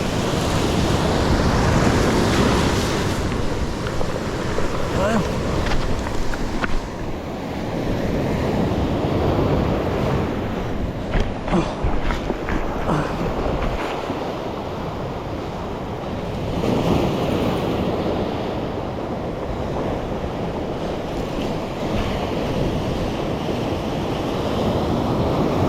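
Heavy ocean surf crashes and roars continuously, loud and close, with gusts of wind buffeting the microphone.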